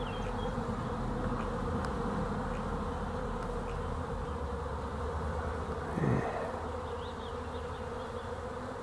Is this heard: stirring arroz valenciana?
no